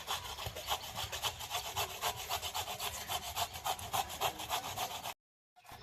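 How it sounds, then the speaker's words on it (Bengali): Carrots are finely grated by hand on a grater for carrot halwa, heard as quick, regular scraping strokes at close range for several seconds before stopping abruptly. "আর গাজরটা আমি এই কোরন দিয়ে কুড়ে নেব ঝিরিঝিরি করে।"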